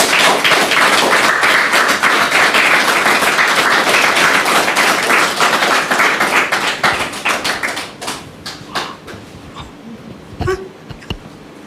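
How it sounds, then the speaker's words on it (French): Studio audience at a French television talk show applauding, loud dense clapping for about seven seconds that thins out and fades, leaving a few scattered claps and faint noises. "Merci de la recevoir avec vos applaudissements,"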